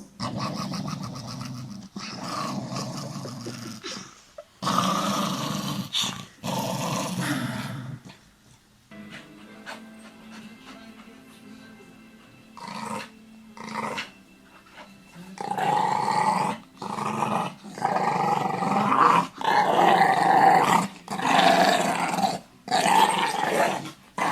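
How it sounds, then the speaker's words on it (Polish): A dog growls in long, rough rumbling bursts with brief pauses, close and loud, briefly dropping to quiet whimpery sounds midway. "No i znowu tak, pokazuje zęby, warczy"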